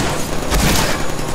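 A gunshot from a Deadpool video game lands as a single loud, close blast inside a brief stretch of dense, noisy game action.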